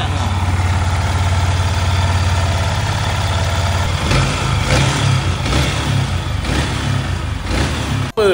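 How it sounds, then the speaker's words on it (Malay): A motorcycle engine idles after an overhaul with fresh engine oil, a low steady rumble that picks up rhythmic revving pulses about halfway through and keeps running loudly to the end. "Mari kita dengar bunyi enjin selepas siap."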